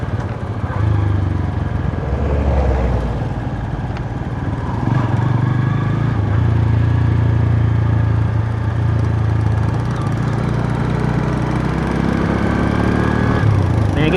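A manual-gear motorcycle rides along an unfamiliar road in Sri Lanka, its engine droning loud and close throughout, the pitch rising and falling with the throttle, with no talking.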